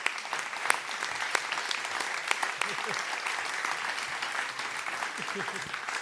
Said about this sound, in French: Et ben j'ai envie qu'on accueille ensemble nos 2 partenaires en fait qui ont rejoint l'aventure, Albin et Rachel. Applaudissez fort